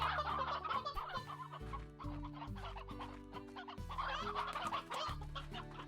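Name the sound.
chickens clucking in the video game Slime Rancher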